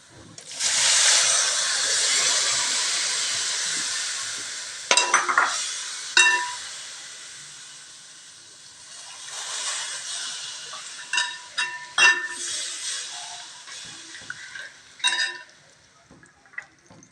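A loud rushing hiss as water hits a hot pan of masala, fading over a few seconds, followed by scattered clinks and scrapes of a spoon stirring.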